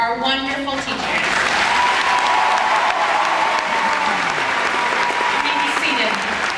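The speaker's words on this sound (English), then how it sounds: "Classmates, please give thunderous applause for our wonderful teachers." A graduation-ceremony audience applauds its teachers with loud, sustained clapping that fills the whole stretch, dense and steady from start to finish, with a few voices and faint tonal sounds mixed underneath.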